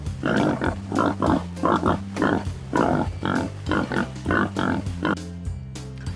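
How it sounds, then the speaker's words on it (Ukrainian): Repeated pig grunts and oinks in a steady rhythm, fairly close and loud, with a brief quieter pause near the end. "Так, свиня хрюкає."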